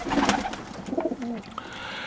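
Young feral pigeons and doves, about three weeks old, give soft, throaty coos in short, rolling phrases. The birds sound close and clear, with no voices over them.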